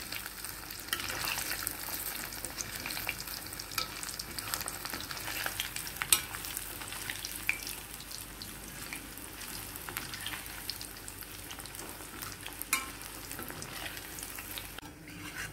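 Paneer deep frying in hot oil until crispy for chilli paneer, a continuous, fairly quiet bubbling sizzle with scattered crackles and occasional utensil clicks, no voices.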